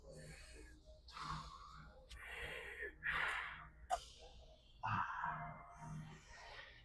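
Deep breaths during a leg workout warm-up: slow, close inhales and exhales with brief gasping and snorting pulls, quiet and intimate.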